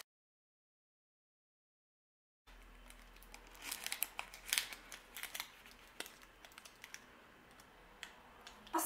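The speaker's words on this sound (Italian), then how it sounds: "Andiamola a vedere nel dettaglio e andiamo a fare insieme il taglio." A Foodspring Crunchy Peanut protein bar is sliced with a knife, giving a run of crisp, crunchy cuts and crackles up close after a silent start, with no voices.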